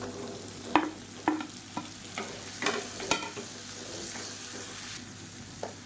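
Onions, green chillies and chopped tomatoes sauteing in a pan for a chutney side dish, with a steady low sizzle broken by sharp clatters of stirring against the pan, close and without talk.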